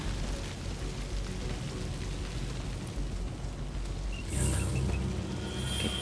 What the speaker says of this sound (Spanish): Oh, bueno, al menos un poco de lluvia.